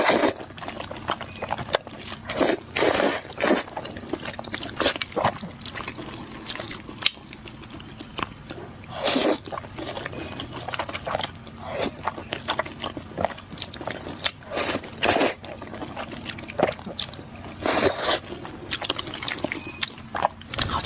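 Crunchy chewing of crispy fried rice noodles, with loud, close bites and crackling crunches that come in irregular bursts and mix with wet mouth sounds. No one speaks.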